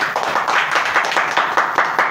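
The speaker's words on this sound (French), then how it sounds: "Aimé Nyossian, ça s'acclame." Audience applause from a crowd at a live broadcast event, a dense, steady patter of many hands clapping close by and fairly loud throughout, with no voices over it.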